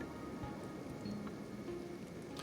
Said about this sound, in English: And is it acid raining? Yeah, it is acid raining.